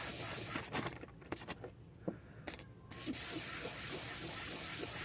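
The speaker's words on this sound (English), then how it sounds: "Keep on sanding in circles." Steady rough rubbing of sandpaper on a hard plastic piece of an old CD against a desk, continuous circular scraping with brief lighter pauses, close and moderately loud.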